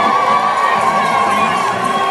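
A crowd cheers and shouts at a roller derby bout between the L.A. Derby Dolls and Sugartown, a loud, sustained wall of whoops and children's shrieks with no break.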